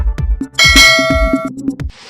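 A bright, ringing bell chime rises over a few short percussive beats, sustains briefly, then cuts off; loud and close.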